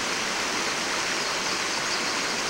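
Bandy Creek flowing by a waterfall that is part single drop, part cascade, a steady dense rush of water close by with no other sounds.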